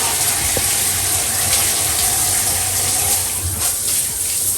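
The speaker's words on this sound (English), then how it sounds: "So I'm going to rinse out all of the conditioner." Water runs steadily from a tap or shower while conditioner is rinsed out of braided hair, a continuous close hiss and gush with no voices.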